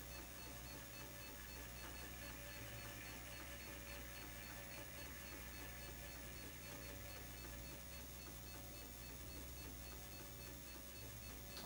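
An Astra Big D disk drive for the Atari 8-bit computer running an RPM test, giving a steady mechanical whir and faint rhythmic ticking that stays quiet and even throughout.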